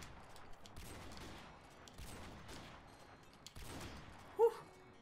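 Gunfire in Modern Warfare Remastered plays in a 1v1 match as a few quiet bursts of rapid shots, spaced apart, ending with a short, sharper sound, all faint.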